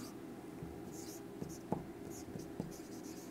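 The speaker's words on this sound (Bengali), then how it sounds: "আমি এখানে লিখে দিচ্ছি" Marker or chalk writing on a classroom board during a botany lecture, a few faint scratchy strokes with soft taps over a steady room hum, no talking.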